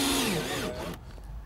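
A power drill drives stainless steel screws into a wooden stair stringer for a porch stairway, the motor whining loud and close and then dropping in pitch as the screw seats, followed by a brief stop.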